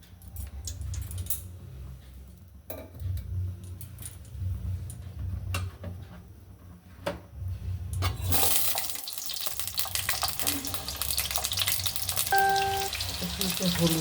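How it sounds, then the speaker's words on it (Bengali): Potatoes fry in oil in a wok, a soft steady sizzle with scattered clicks and taps, then a brighter, louder hiss of hot oil in the final seconds. "এবার কড়াই আমি তেল দিয়ে আলুটাকে ভালো করে ভেজে নেব"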